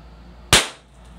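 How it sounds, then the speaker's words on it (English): A toy cannon on a pirate-themed chess table fires one sharp, loud pop that decays quickly into a short ringing tail, alone against quiet room tone. "what's the point of having a cannon unless it actually fires?"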